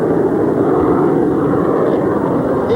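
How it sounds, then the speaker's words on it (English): A jet aircraft takes off from a ship's deck at full afterburner, a loud, steady roar that fills the whole stretch with no other sounds. "He applies full afterburner power and takes off once again, clearing the deck of the ship"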